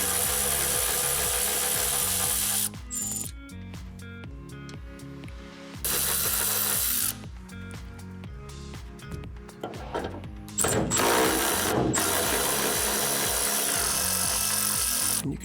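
A power drill removes the stock hood hinge on a Toyota Land Cruiser FJ62, running in several loud whirring bursts separated by short quiet gaps, with clanks and handling noises in between.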